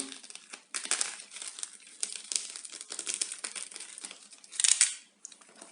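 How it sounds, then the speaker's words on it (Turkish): Crinkly rustling and crumpling of a shipping package wrapped in plastic bubble wrap being handled and opened, close and continuous with a louder crackle near the end and no talking. "Açalım bakalım kargomuzu"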